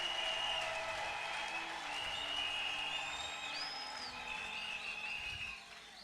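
A church congregation at a Pentecost service claps continuously in sustained applause, with a few voices and cheers rising above it before it begins to fade.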